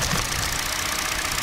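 A Peugeot 308 with the EP6 petrol engine idles steadily during an ignition coil check, a continuous close mechanical hum and ticking with no pauses.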